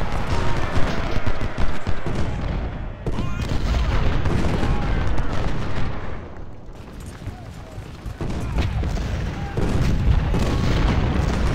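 Cannon volleys roar across a Civil War battlefield in the strategy game Ultimate General: Civil War, repeated heavy booms and crackling musketry rolling on in waves, loud and layered, with a voice heard at times.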